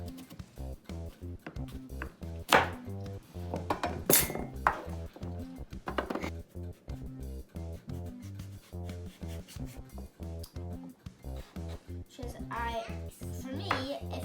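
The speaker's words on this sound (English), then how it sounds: "You need to chop first a lot, so I've already started." Knife chopping butternut squash, carrots, parsnips, potatoes and sweet potatoes on a board for roasted root vegetable soup, a steady run of close, rhythmic cutting clicks and scrapes with someone talking over them.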